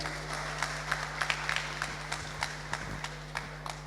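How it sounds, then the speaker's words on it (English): Light, scattered clapping from a small audience at an ideas forum sits over a steady low hum, with individual claps popping out irregularly. "So give Rico a big round of applause"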